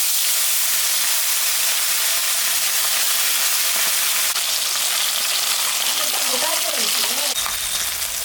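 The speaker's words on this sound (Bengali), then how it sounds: "তেলটা গরম হয়ে গেছে, মাছটা এখন আমি ভাজবো।" Tilapia fish frying in hot oil, a loud continuous sizzle and hiss throughout, with faint crackling and a brief murmur of voice underneath.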